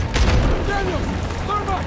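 A cannon blast in Call of Duty: WWII during the D-Day landing, a loud deep boom with rumbling gunfire and battle noise filling the brief moment, with shouted voices mixed in.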